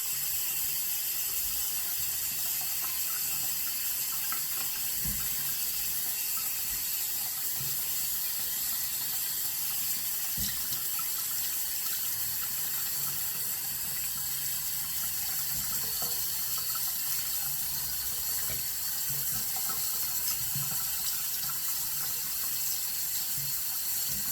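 Hot water running from a kitchen faucet into a sink, a steady close hiss and splash with occasional soft clicks and knocks over the flow.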